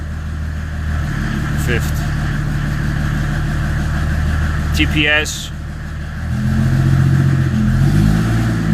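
A converted Renault Trafic/Vauxhall Vivaro 4x4 campervan with an OM606 diesel engine and manual gearbox drones steadily, dipping briefly during a gear change then rising to a louder, lower roar, with short spoken words over it.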